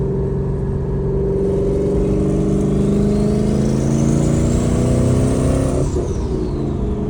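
A car that had a suspected turbo failure revs hard through a downshift, engine pitch climbing and sweeping, loud and close, with a high turbo-like whine rising over several seconds and then dropping off sharply.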